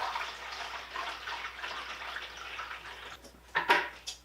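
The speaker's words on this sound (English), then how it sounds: "we have to fill this tray up with water" Water pours steadily into a plastic seed tray for pepper seedlings, a continuous close splashing trickle that ends with a few louder sloshes and drips.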